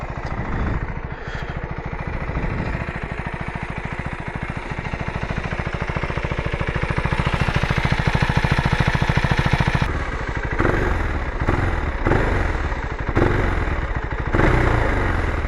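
A KTM 390 Adventure R single-cylinder motorcycle idles at a steady, even tick-over with a dense mechanical rumble close to the microphone, briefly interrupted near the end, with no voices.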